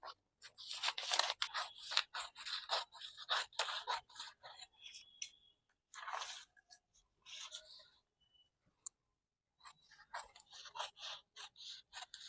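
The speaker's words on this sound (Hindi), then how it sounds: "इसीलिए मैं एक ही पेपर काट लेती हूँ।" Scissors snip through paper while cutting a blouse pattern, a close series of crisp short crunches in quick runs, broken by a few quiet gaps and one sharp click.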